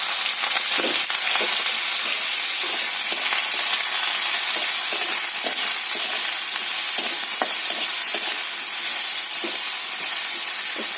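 Eggplant fries in hot oil with dried red chilli and nigella seeds, sizzling loudly and steadily up close, with repeated clicks and scrapes of stirring throughout.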